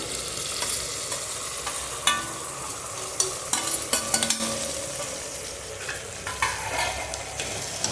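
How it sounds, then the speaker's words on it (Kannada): Kushka rice frying in a pan with mutton masala, garam masala, coriander powder and salt: a steady close sizzle broken by repeated scraping stirs and light clinks, with no voices. "ಹಾಕಿ ಫ್ರೈ ಮಾಡ್ಕೋಬೇಕು."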